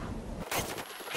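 Gunfire bursts in the video game Bloodborne, a couple of dense, loud blasts in quick succession over a busy game soundscape.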